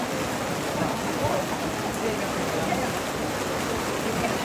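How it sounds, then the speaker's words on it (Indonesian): Steady rain falls outdoors as a dense, even hiss that holds at a constant loud level throughout, with no voices breaking through. "Hujan."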